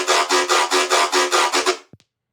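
Hybrid reverb layer set fully wet in an Ableton preset for a bass-music remix: a loud, hissy, rasping texture pulsing about eight times in steady rhythm, then cutting off abruptly, followed by a couple of faint clicks.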